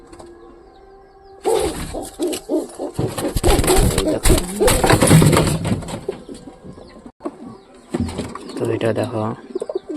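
A pigeon held in hand gives low coos and rustling flutters among other birds, while someone talks over it in the foreground.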